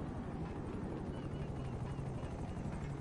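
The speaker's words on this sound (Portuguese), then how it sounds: "Ih, caramba, chegou um helicóptero ali, hein?" A helicopter hovers in GTA V Online, a low, steady rotor drone that stays faint and continuous beneath the game ambience.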